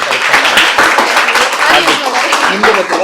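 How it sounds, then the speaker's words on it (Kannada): Audience applause at a school stress-buster event, a dense crackle of many hands clapping throughout, loud and steady, mixed with voices. "ಹೊಡಿರಿ ಚಪ್ಪಾಳೆ"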